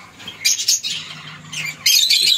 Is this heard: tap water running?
no